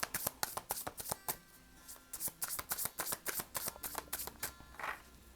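Tarot cards are shuffled during a reading, with rapid, close riffling clicks and soft slaps in a quick uneven rhythm and no voices over them.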